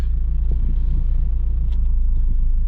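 1989 Chevrolet Cavalier wagon with a 2-liter four-cylinder and three-speed automatic, driving with a steady low engine and road rumble heard from inside the cabin, with no one talking.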